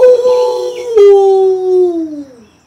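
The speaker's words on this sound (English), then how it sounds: "Three-headed Cerberus barks and drools through the third circle's icky, icy, putrid pools" A howling effect for the three-headed hound Cerberus, a single loud, drawn-out howl close by that holds, then slides down in pitch and fades, with no clear barks.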